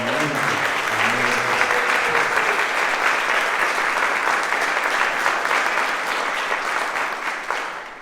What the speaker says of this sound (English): I want to once again ask for a huge round of applause for the students and young men and women of John Paul II.